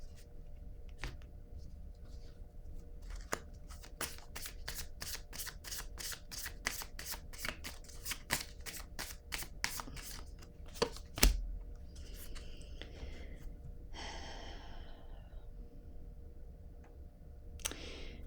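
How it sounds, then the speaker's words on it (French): Tarot cards riffled and shuffled in a rapid, even run of crisp close ticks, then a few softer slides and flicks as a card is drawn from the deck; no talking. "Là, je vais piger une autre carte."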